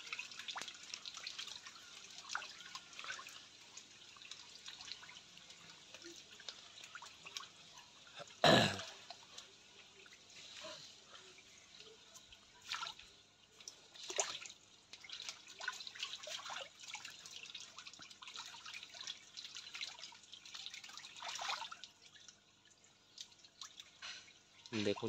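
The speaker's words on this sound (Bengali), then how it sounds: "দেখুন মাছগুলো দিনেও কেমন ফ্লোটিং ফিড, ভাসমান ফিড খাচ্ছে।" Singhi catfish in a backyard tank snap at floating feed pellets, making scattered faint drips, gulps and splashes on the water surface, with one sharp louder splash partway through.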